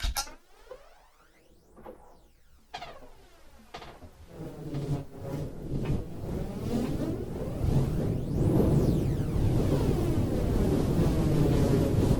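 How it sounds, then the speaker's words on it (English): Swirling, sweeping tones from a Soundcraft EPM6 mixer's delay and flanger effects build from quiet to a dense, loud wash, with echoing repeats, rising and falling in a jet-like phasing sweep. "And let's do both delay and flanger."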